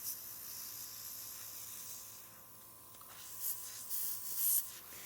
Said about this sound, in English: she's dropping in with a dropper a few drops of clear water and just spraying the gun clean